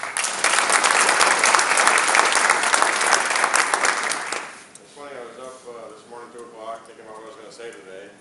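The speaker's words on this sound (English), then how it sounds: "you deserve a round of applause" An audience at a local Democratic election caucus gives a round of applause, loud dense clapping for about four and a half seconds that ends abruptly, followed by someone speaking.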